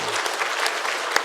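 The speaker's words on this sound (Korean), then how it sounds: "박수 한번 하겠습니다" A church congregation claps for the volunteer parking attendants, a brief dense burst of applause that is near and steady, with no talk over it.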